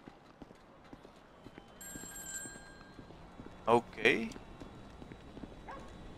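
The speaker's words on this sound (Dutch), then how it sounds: "De telefoon gaat hier." A phone rings in Grand Theft Auto 5 with a short, thin electronic tone partway through, faint beneath game ambience with clopping hooves and a horse whinny, and a voice speaks briefly.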